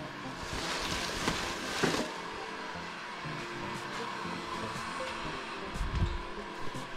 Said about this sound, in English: I like to keep my heat gun on high, so I'll just warm it up a little bit.